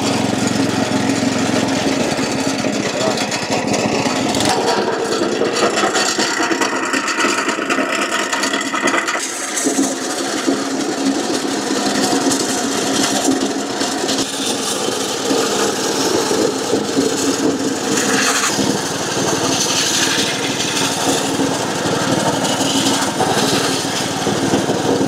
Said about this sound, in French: Let's go, on va démarrer le moulin.